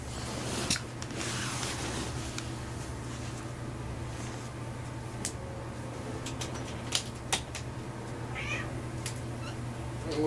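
A house cat meows to be let in, giving a few short, faint meows near the end over a steady background hum and scattered clicks.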